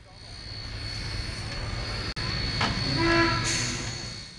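Steam locomotive 3526 rolls back toward its carriages at a heritage rail station event, a steady low rumble and mechanical hiss running throughout, with brief brighter chuffs and tones near the end.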